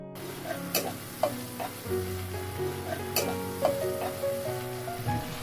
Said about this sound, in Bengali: মশলা থেকে তেল ছেড়ে দিলে তাতে ভাজা আলুগুলো দিয়ে আরও খানিক্ষণ কষিয়ে নিলাম